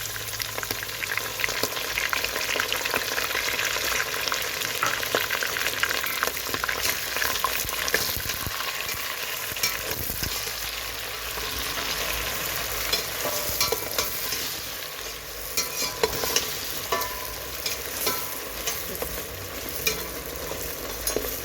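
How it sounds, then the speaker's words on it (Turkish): Meat and dried onions fry in a pan for an Uzbek meat soup, giving a loud, steady sizzle with occasional stirring scrapes and no voices throughout. "Kuru soğanımız da kavrulsun güzelce."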